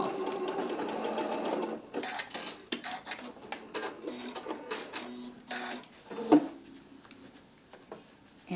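Home sewing machine stitching a fabric seam on a quilted fan block, its motor whirring in bursts with short pauses and clicks, close and moderately loud, no talk.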